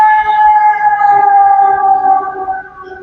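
A fire truck siren wails steadily with sustained tones, loud and continuous, with faint background noise underneath.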